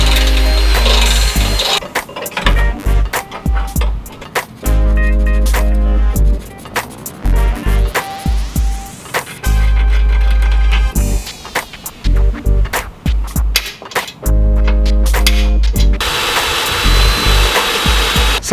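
A power drill whines and grinds loudly in repeated bursts, starting and stopping, with high-pitched screeching as the bit bites into hardened steel bed-frame tubing.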